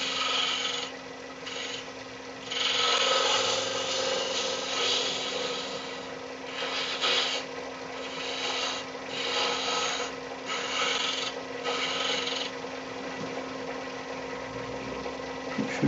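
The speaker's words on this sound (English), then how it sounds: "so just a bit of scraping, avoid any rings" Wooden egg being scraped with a tool while spinning on a wood lathe, a continuous raspy hiss over the steady motor hum, rising and falling in repeated passes, close and fairly loud, no talk.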